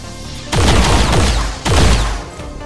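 Two loud, close bursts of gunfire in XCOM 2, each a sharp volley with booming low-end decay, the second following about a second after the first, with no talking.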